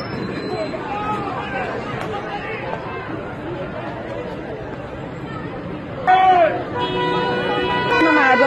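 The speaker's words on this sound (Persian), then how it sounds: "مردم با بوق دارن نشون میدن." Car horns honk in a street as people protest. A steady crowd murmur runs underneath until a loud horn blast sounds, followed by repeated honking near the end.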